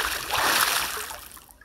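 A brief wash of sea water at the shore at Sabang, a short splashing surge that fades out quickly, heard alone at moderate loudness.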